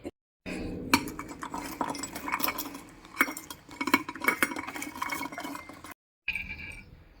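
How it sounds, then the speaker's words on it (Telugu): Garlic cloves pounded with cumin seeds in a mortar for a lemon pickle, giving repeated sharp knocks and clinks in an uneven rhythm, close and fairly loud, with brief pauses between bursts. "ఈ వెల్లుల్లి దంచుకుందాం"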